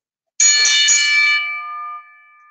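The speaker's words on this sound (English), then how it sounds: "we're ready to ring the bell" A wrestling ring bell strikes once, loud and close, with a bright metallic clang that rings out and slowly decays over about two seconds, with no talk over it.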